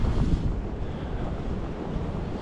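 Strong wind gusting during a snowstorm in Québec, a loud, steady roar buffeting the microphone with rumbling low-end turbulence and no voices.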